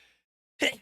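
A single sharp sneeze bursts out close and loud near the end, after a faint breathy sound and a pause of silence.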